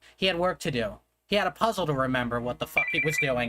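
A phone rings with a steady electronic tone that starts near the end, faint beneath a person reading aloud continuously.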